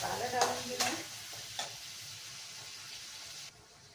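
Onion paste with ginger garlic paste fries in a pan, a soft continuous sizzle with a few scraping stirs at the start, fairly faint and steady throughout.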